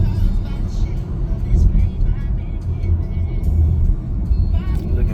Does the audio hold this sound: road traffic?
yes